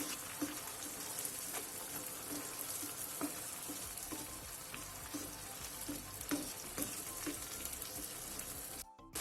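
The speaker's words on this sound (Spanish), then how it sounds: "lo voy a dejar así, que se vaya cocinando y se vaya haciendo ya todo el sofrito" Tomato sofrito with oregano simmering in a pan for meatballs in sauce, giving a steady, dense sizzle and bubbling with small regular pops throughout, close and continuous without any voice.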